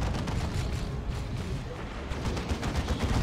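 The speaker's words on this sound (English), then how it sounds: "And the las cannon gets a shot." Heavy weapons fire in the Warhammer 40,000: Dawn of War 2 video game, including a lascannon shot amid a Cyclone missile launcher barrage, heard as a dense run of booming blasts and crackling impacts in continuous battle.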